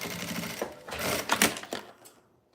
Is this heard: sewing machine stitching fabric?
yes